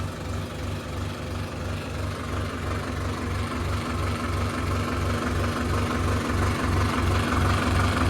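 A tractor engine idles close by, a steady, heavy diesel thrum with a regular knocking pulse running throughout, with no talk over it.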